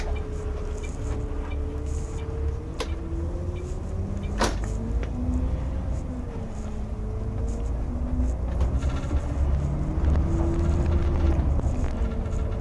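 Truck with a 12-speed gearbox pulling away from a standstill in fourth gear: a steady, close engine drone with rising and falling pitch as it builds speed, plus a few brief knocks and clicks, alone with no talk.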